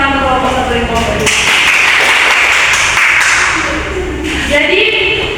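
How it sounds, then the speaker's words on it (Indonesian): Students in a classroom clapping for groups 1 and 2, a burst of applause that swells in the middle over a teacher's voice and then fades as speech resumes. "Kita beri tepuk tangan untuk kelompok 1 dan kelompok 2"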